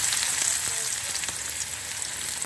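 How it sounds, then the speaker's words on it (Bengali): Chopped onion and garlic frying in a pan for a red amaranth leaf stir-fry, giving a steady, dense close sizzle with crackling throughout and no talk. "এখন পেঁয়াজ আর রসুনটাকে লাল লাল করে ভেজে নেব"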